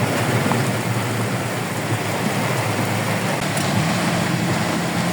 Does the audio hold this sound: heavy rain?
yes